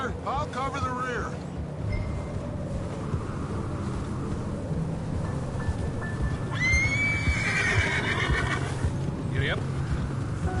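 A horse in Red Dead Redemption 2 gives a loud, close whinny over ongoing hoof clops and outdoor game ambience, with faint voices in the background.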